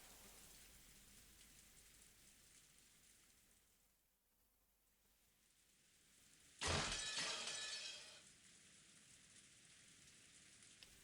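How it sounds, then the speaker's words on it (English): Steady rain from the Umineko visual novel game falls as a soft, continuous hiss throughout, briefly interrupted by a loud, sharp shattering crash in the middle before the rain carries on alone. "In a still silence, with no sound except for the rain, even Lambda Delta finally hung her head in"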